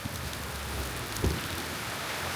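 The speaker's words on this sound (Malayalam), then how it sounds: "നല്ല ശക്തിയുള്ള മഴയാണ്" Heavy rain pours down in a street in Bali, a steady, dense hiss of drops with a faint low thump partway through and no voices.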